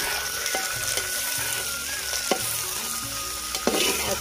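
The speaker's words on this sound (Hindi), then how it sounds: "तो अभी हम डाल देंगे प्याज" Onions frying in a pot with garlic, chili and whole spices for a desi chicken curry give a steady sizzle, with a few close clinks and scrapes of stirring and no voices.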